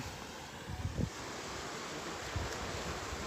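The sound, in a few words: Kalpathy river flowing in Palakkad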